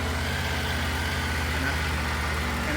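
Triumph Tiger 900 motorcycle engine idling steadily, a close, even low throb with a regular pulsing rhythm and no talk.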